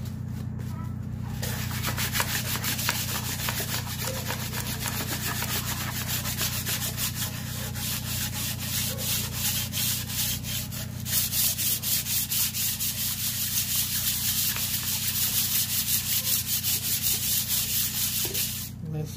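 Steady, continuous abrasive sanding on a VW 1.9 TDI engine block, a close rough rubbing hiss that runs unbroken for the whole stretch with slight swells in intensity and a constant low hum underneath.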